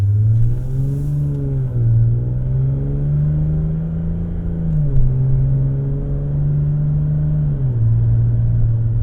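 A 2006 Lexus IS350 with a cat delete and aftermarket muffler accelerates, its engine note climbing and falling through a few gear changes, a loud, steady rumble heard from the cabin with no voices.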